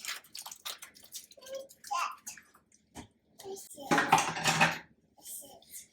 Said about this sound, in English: So then we're just gonna stir this up.